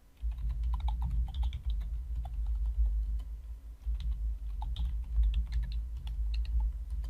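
Steady typing on a computer keyboard entering a password, with close, continuous key clicks over a low background hum and no voices.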